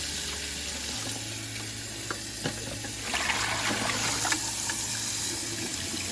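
Parts of a cat or dog water fountain rinsed under running water, a steady close hiss of flowing water with a brief splashing surge partway through, alone without talk.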